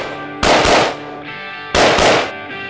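Steyr AUG rifle firing at targets on a range, with two loud, close shots spaced about a second and a half apart, each ringing out briefly before fading.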